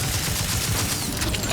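Loud, dense blast with rattling, crackling debris from a grenade explosion in The Outer Worlds 2 fills the whole moment, continuous and close.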